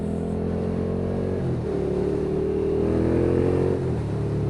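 Suzuki SFV650 Gladius V-twin motorcycle engine revving up, with harmonic engine tones rising, falling and holding steady across several seconds, loud and close with no talking.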